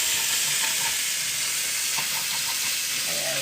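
Bacon sizzling in a pot for chili, a loud, steady hissing fry with a few faint scraping stirs, close and continuous.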